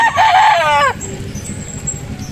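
A young gamecock stag in a father's chicken pen lets out one loud, close crow lasting just under a second, then the pen goes quiet apart from low background rustle.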